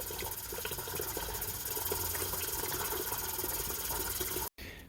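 Hot water is poured into a jug holding salt for an ice jug, giving a steady hissing, bubbling rush that runs close and continuous for several seconds before stopping briefly.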